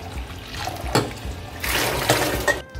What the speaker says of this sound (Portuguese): Escorre, passa na torneira, lava bem agora.